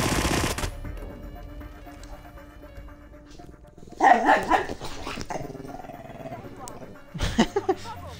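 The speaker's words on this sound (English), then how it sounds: "Sorry if you hear my dog in the background." A house dog barks and growls in the background during a Hitman Patient Zero game session, with two louder clustered bursts of barking over steady game sound.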